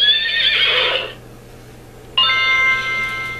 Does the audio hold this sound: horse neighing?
yes